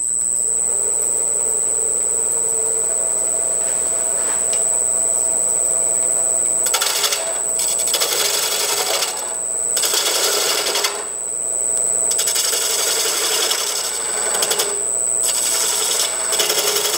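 A wood lathe spinning a hollow form while a quarter inch spindle gouge cuts, a steady high whine with rough scraping bursts of cutting noise coming and going, close and loud.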